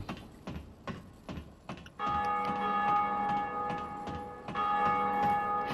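A bell rings in Dark Souls Remastered, sustained resonant tolling that swells twice after a run of sharp clanking footfalls, loud and close with a long ringing decay.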